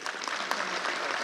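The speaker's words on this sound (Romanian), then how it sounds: "vă rog să o aplaudăm" Audience applause at the opening of an energy exploration center at the University of Bucharest: brief, dense clapping from a room full of people, steady and moderately loud.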